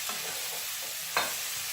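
Vegetables cooking in oil in a pan under a constant soft sizzle, with a few faint scrapes and one brief louder clink as they are stirred.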